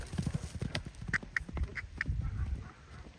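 A horse named Pulya running, hooves clip-clopping in a quick uneven rhythm close by, with faint honking bird calls in the background.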